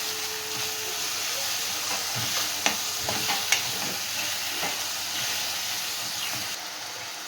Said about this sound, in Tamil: தக்காளி நல்லா வதங்கி எண்ணெய் பிரிஞ்சு வரட்டும்